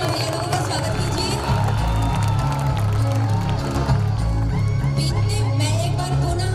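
At a school annual function, a crowd applauds and cheers to welcome performers, with steady clapping and lively noise sustained throughout, and voices mixed in.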